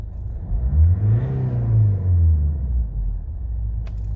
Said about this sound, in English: I'll give it a quick rev for you.